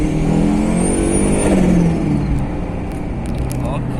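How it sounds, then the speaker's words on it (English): A Honda Fit Sport with a turbocharged K24A2 engine accelerates hard, its loud engine drone carrying a rising turbo whistle and a brief hiss as the revs climb, heard from inside the car. "that nice turbo sound, that blow of valve, I love it"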